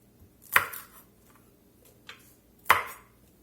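A knife cuts the ends off peppers on a cutting board, producing two sharp, close chops with a lighter tap between them in an otherwise quiet setting.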